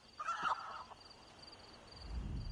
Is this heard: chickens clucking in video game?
yes